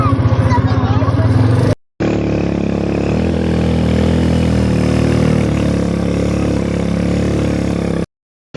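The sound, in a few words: motorcycle passing by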